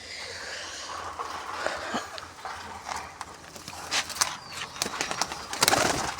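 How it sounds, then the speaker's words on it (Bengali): A kalanka pigeon being let go outdoors, with wing flutters and soft bird sounds around it, plus scattered clicks and rustles that grow louder toward the end. "তো কালাঙ্কা পায়রাটা ছাড়ি"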